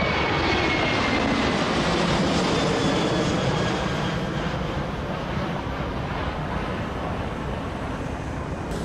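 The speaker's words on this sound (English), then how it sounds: "this is an amazing takeoff from the 7-4" A Boeing 747 jet airliner roars steadily on takeoff, a loud, broad, continuous engine rumble that holds strong and eases only slightly over several seconds.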